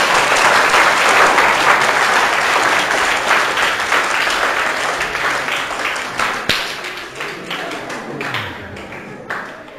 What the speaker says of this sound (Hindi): एक बार मेरे लिए तालियां बजा दो।